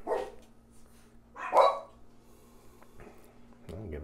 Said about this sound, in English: Or do you want to wait till they stop barking?